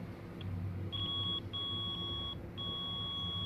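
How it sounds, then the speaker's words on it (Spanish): Several high electronic beeps from a multimeter continuity test, short chirps then longer steady tones with brief gaps, over a low background hum. "Como se puede ver, el multímetro emite un pitido."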